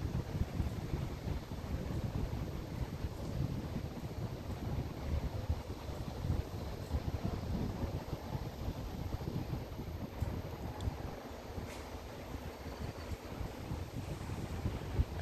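Air blows from an outdoor air-conditioning unit past a handheld Parkside anemometer, making a steady, loud, rushing roar of wind with low rumble that never lets up.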